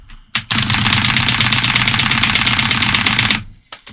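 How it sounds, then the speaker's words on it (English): Very rapid, dense key clicking on a keyboard during a spam test, a continuous close machine-gun-like rattle lasting about three seconds with brief clicks before and after. "Am I clicking too fast or too slow?"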